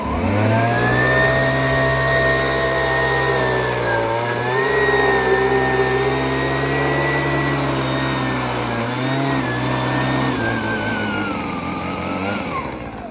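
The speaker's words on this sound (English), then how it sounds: "I'm going to try and blow the debris through the screen" A leaf blower blows debris through a mesh gutter guard screen, a loud, steady engine whine running close and continuous, with the pitch dipping and rising a few times as the throttle or angle shifts, and no talking.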